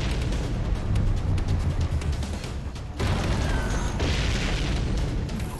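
Heavy, continuous booming and rumbling from a firefight with explosions on the perimeter of the White House, dense and loud throughout with a brief dip near the middle before the barrage resumes.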